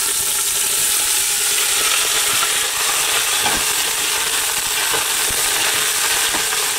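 Vegetables and garlic sauté in a pot for homemade vegetable stock, giving a steady, fairly loud hiss of frying with a few faint clicks and scrapes of stirring.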